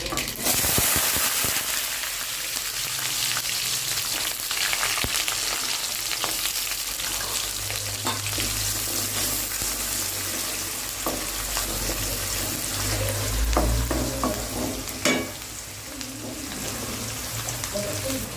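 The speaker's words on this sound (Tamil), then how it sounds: "கடுகு, கொஞ்சம் வெந்தயம், கழிச்சு போட்டுக்கலாம்" Mustard seeds and fenugreek fry in oil for a brinjal kara kulambu, a long, loud, rain-like sizzle with scattered popping and occasional clinks of stirring, steady and close throughout.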